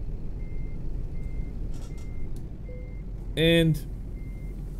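A truck in Euro Truck Simulator 2 backs up with faint, evenly spaced reversing beeps, a short loud hiss of air brakes partway through, and a brief spoken word.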